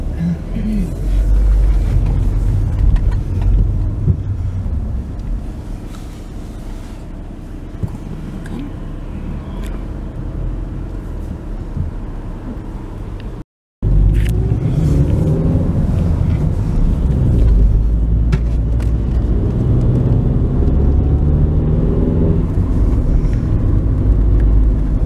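A car drives through the town streets of Goslar, its engine and road rumble steady and loud throughout, with people talking inside the car and a brief cut midway.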